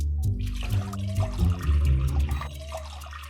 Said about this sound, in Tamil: வாட்டர் 6 கப்பு ஊற்றி ஹீட் பண்ணல.